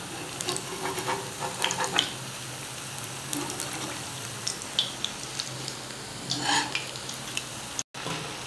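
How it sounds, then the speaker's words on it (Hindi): Vadas frying in hot oil over a low flame, a continuous bubbling sizzle with scraping stirs and turning sounds scattered throughout, close and moderately loud. "इसको तकरीबन 2 से 3 मिनट हमने इसको ऐसे उलट पलट करके स्लो फ्लेम पर फ्राई करना है"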